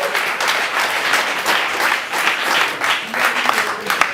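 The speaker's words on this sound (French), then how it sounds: "On applaudit s'il vous plaît." Audience applause at a bar event in a mixed, lively crowd, dense steady clapping that swells and fades in waves over a few seconds, fairly loud and close.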